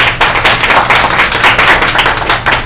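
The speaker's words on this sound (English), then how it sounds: "give yourself a round of applause because you invested in yourself" A live audience at a motivational success seminar bursts into a round of applause, dense steady clapping filling the room close and loud, with no voices over it.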